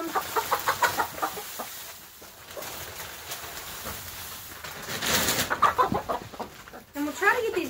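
Chickens cluck in a coop during an ice storm, a run of short repeated calls at moderate distance with a few louder bursts near the end.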